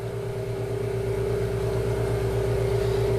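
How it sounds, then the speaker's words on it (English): A valve grinding machine motor spins up and holds a steady, loud whine with a low rhythmic pulsing beneath it, continuous and close, with no talking. "I'm going to bring the motor up until I listen for an audible tone"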